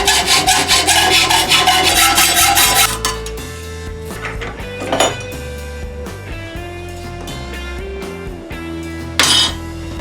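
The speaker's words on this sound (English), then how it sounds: "I'll mark it the size and cut it using my old hacksaw." An old hacksaw cuts 3/4 by 1/2 inch angle aluminum in steady, rasping back-and-forth strokes for several seconds. A quieter stretch follows with scattered clinks, then a brief burst of sawing near the end.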